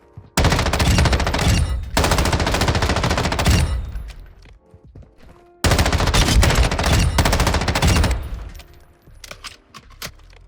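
Submachine gun fire in Modern Warfare II comes in two long, loud, rapid sustained bursts with a short pause between them and echoing tails after each, with no talking.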